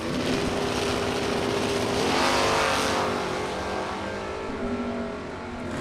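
Drag race cars, a Chevrolet Malibu against a 1969 Camaro, roar loudly and continuously at a drag strip. The engines surge through a sustained, high-powered run with a gradual swell and fade.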